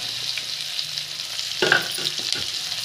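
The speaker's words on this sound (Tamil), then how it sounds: "பீட்ரூட் எண்ணெயில் நல்லா வதங்கி வரட்டுங்க." Sliced beetroot sautéing in oil in a pan with chili and curry leaves, a steady close sizzle with a stirring clatter partway through.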